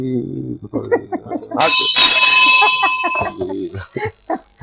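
A bell is rung in the middle of ongoing conversation, its bright metallic ring swelling loud and sustained for about two seconds before fading as the voices continue around it.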